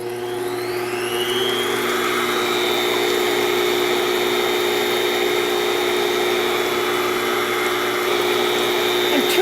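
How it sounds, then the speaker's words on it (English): An electric mixer running on high speed beats three extra-large eggs in a large mixing bowl, producing a loud, steady motor whine that rises slightly in pitch early on and then holds constant throughout. "We're going to get this mixing on high"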